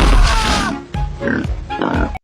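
A pig gives several short, close grunts and oinks in quick bursts that fill most of the short stretch, loud and alone, ending abruptly.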